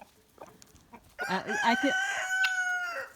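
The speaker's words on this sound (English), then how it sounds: "They've got to tell everybody that they're laying an egg by cackling." Backyard laying hens cackle loudly after laying eggs, a run of rhythmic, pulsing squawks rising into a long, strained, sustained call, close up and alone with no talk.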